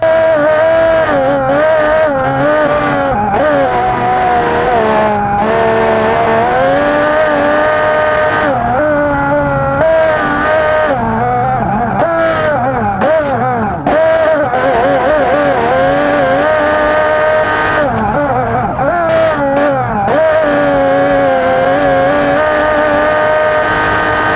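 Powerful modified van in BeamNG.drive racing around a test track: loud, continuous high-revving engine roar with rising and falling pitch through gear shifts and throttle changes, close and unbroken for the whole lap.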